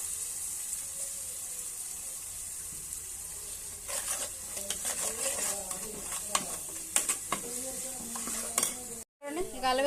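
Chicken curry paste sizzles and fries in a pan while being stirred, a constant bright hiss with scraping and clinking utensil sounds growing busier midway, close up, with a brief cut near the end.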